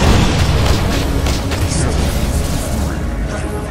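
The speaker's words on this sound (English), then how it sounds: "Radiant's top tower is falling" A tower comes under attack and crumbles in Dota 2, with dense, loud booming impacts and rumbling explosions filling the whole stretch, and a game announcer's voice layered over the battle noise.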